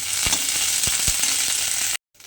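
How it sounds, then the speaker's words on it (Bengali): Neem leaves sizzle in hot oil in a pan, a bright steady frying hiss with a few stirring scrapes, close and alone before cutting off abruptly near the end. "নিম পাতাটা ভাজতে হবে এইভাবে একটু লাল লাল করে ভেজে নেব"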